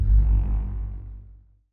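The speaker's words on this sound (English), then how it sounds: "we had some horns that were kind of sort of at that like sort of transition point" Orchestral horns from a free virtual instrument plugin swell in a low, warm brass chord, loud at first and then slowly fading out over under two seconds, heard alone.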